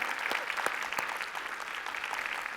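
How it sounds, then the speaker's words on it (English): A round of applause from the audience at an annual MLK Day celebration, steady dense clapping heard at a moderate distance, alone without talk. "can we give Miss Kennedy a round of applause, you all?"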